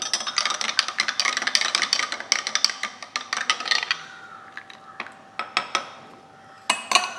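A spoon clinks rapidly against a glass or cup while saffron is stirred into water, a dense run of bright metallic taps that thins to scattered clinks.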